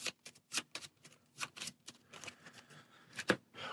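Cards from the Star Wars: Outer Rim board game being shuffled back into a deck, a run of quick, soft riffling bursts and taps with short gaps, close and quiet, with no voices.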